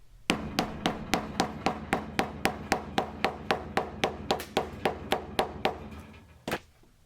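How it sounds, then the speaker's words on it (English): Steady, evenly spaced hammer taps ring out about three per second, a long regular series of sharp knocks on leather lacing of a knife sheath, ending with one louder strike. "I'll hammer over the lacing so the leather closes up around the thread"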